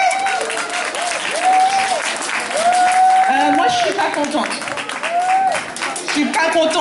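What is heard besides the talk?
audience applause at a salon award ceremony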